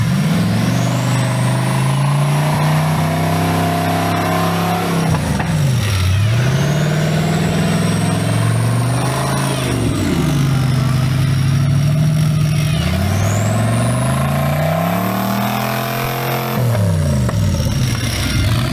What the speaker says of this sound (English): That's why they're called red line racing, because that guy lives on the rev limiter.